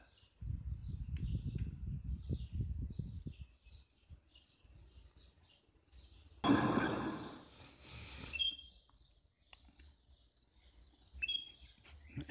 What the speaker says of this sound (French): Les oiseaux chantent comme hier